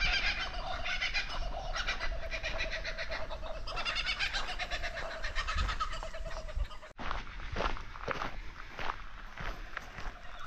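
A turkey-like fowl gobbles and calls repeatedly at close range in the bush of a volcanic national park, with rustling footsteps mixed in and a short cut before the calls continue.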